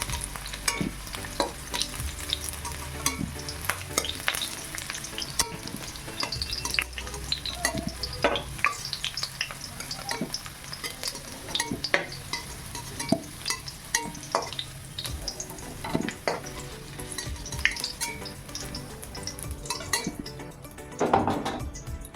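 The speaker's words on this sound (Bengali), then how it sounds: "এইভাবেই ভাজবেন আপনারা ওলকপি খুব বেশি ভাজবেন না" Kohlrabi pieces frying in a pan, with a constant sizzle broken by frequent clinks and scrapes of a utensil stirring against the metal, close and continuous.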